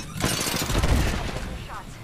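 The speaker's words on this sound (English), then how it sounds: "Getting shot at." Rapid gunfire in an Apex Legends battle, a dense continuous barrage of shots close by with a voice talking over it.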